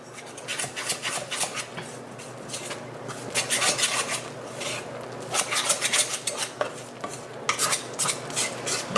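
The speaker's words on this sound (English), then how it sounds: "we're going to give it a really good stir to make sure it's all incorporated" A whisk stirs flour into a sourdough levain to make a poolish, with repeated scraping and clinking strokes against the bowl in irregular bursts, close and fairly loud.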